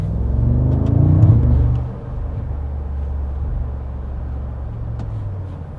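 A Mercedes-Benz G63 AMG with a V8 biturbo engine and side exhaust pipes drives through the city, its deep engine note swelling briefly, then settling into a steady rumbling cruise.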